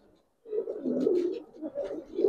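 Giribaz pigeons being released give soft, throaty coos in a close run of repeated phrases after a brief silence at the start.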